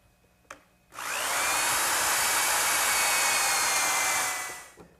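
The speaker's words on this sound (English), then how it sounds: "to drill the hole, I'm just going to use a 1/4 inch brad point bit with a little collar" A 1/4 inch brad point bit fitted with a depth collar bores a dowel hole in a workshop, one steady loud whine lasting about four seconds after a brief click, then winding down.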